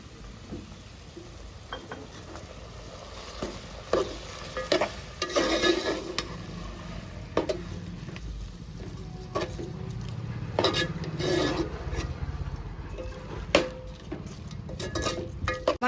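Ginger and garlic fry in a pan while being stirred, with repeated scraping and clattering strokes over a low, steady sizzle that continues between the strokes.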